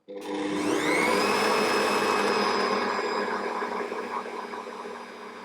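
An Ankarsrum stand mixer whirs steadily as it mixes lemon loaf cake batter, starting up with a rising whine and then holding a loud, continuous motor drone with a faint rhythmic churn throughout.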